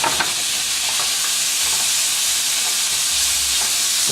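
Chunks of leftover pork roast sautéing in a pan, a loud, dense, unbroken sizzle with a faint hiss throughout, close up and free of speech.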